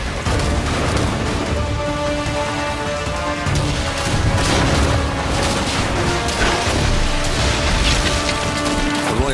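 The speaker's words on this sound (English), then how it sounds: "The Jaeger slips into position with its powerful cannon. Its special ability delivers 8 shots in a single blast," A ship's cannon volley in the pirate naval game Skull & Bones, with dense booming blasts and crashing impacts piled into a loud, continuous barrage over a rumbling soundtrack.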